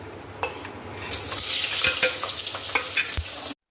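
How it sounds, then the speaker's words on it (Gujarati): Stuffed bitter gourd and chilli curry is tempered in a hot pan, giving a steady loud sizzle with stirring scrapes and brief clinks throughout, no talk. "આપણે શાકનો વઘાર કરશું।"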